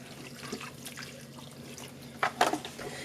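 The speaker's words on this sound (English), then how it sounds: "So I add just a little bit of water." Water poured from a tap into a cooking pot for a simple 1950s-style diner meal, a faint trickle throughout with a brief louder splash of running water near the end.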